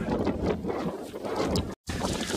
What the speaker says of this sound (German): Ansonsten pfeift hier der Wind richtig.